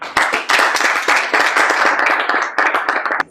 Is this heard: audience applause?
yes